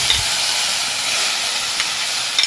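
Squid drops into a hot pan for a Jaffna-style curry, setting off a loud, steady hiss and sizzle with a few small pops and clicks, and no voices.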